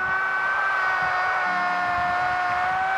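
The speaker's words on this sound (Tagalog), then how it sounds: "nasa may mga dumadaan na sasakyan" Vehicles going by on a road in Balibago, a steady moderate wash of passing car and engine noise with a constant hum running through the whole stretch.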